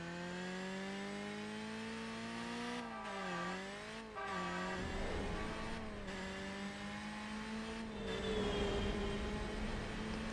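A racing car's engine in Burnout Revenge on PS2 drones steadily and shifts pitch through gear changes, with rising revs and faint tire noise running continuously without speech.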